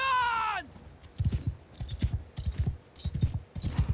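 Horse archers ride in a Mount & Blade II: Bannerlord battle, a horse whinny at the start followed by quick, irregular clip-clop hoofbeats from several mounts, fairly close.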